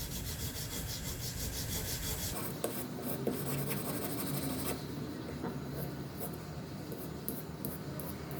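A jewelry ring is worked by hand with sandpaper and a file, giving soft, steady rubbing and scraping strokes, close and fairly quiet, with a rhythmic rasp in the latter part.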